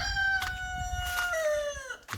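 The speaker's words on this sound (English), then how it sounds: "We have some roosters over here." A rooster on a farm crows once, a loud, close, drawn-out call that falls in pitch, with faint hen clucks in the background.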